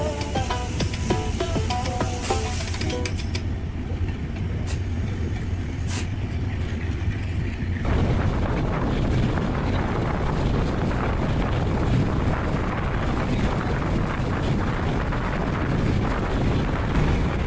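The Chilahati Express passenger train runs at speed, giving a loud, continuous rush of wheels and wind that grows denser and fuller partway through and holds steady to the end.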